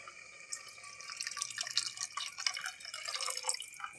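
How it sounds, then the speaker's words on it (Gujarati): Water is poured into a pan of tomatoes cooking for paneer bhurji, giving a soft, steady hiss and trickle with faint drips close by. No one speaks. "ટમેટા નાખીને આપણે એમાં થોડુંક પાણી નાખી દઈશું."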